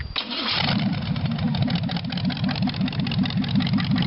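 A rat rod built from an old pulpwood truck cranks briefly and fires up, settling into a loud, steady, lumpy idle close by with a rhythmic throb, no voices over it.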